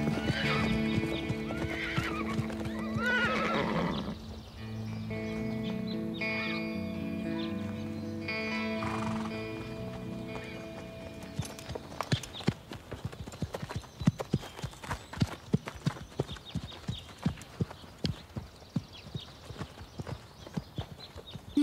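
Steady clip-clop of a horse's hooves as it is ridden, close and rhythmic, following a stretch of music and a short whinny.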